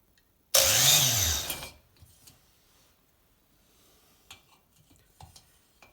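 A short, loud burst of spinning grinding on a Kohler KT17 engine valve seat lasts about a second and winds down, followed by faint scattered taps and handling noises.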